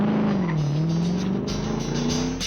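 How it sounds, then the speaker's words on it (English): A racing car at Mount Panorama, Bathurst, pulls out of the pit lane after a radiator refill, its loud engine droning and climbing in pitch with brief gear-change breaks, close and continuous. "the car is sent back onto the track"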